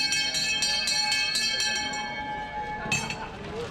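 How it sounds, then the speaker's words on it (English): A hand bell rings in a run of bright, evenly spaced clangs, then pauses before one more strike, with a faint murmur of voices behind. "The crier's bell rings loud and hail."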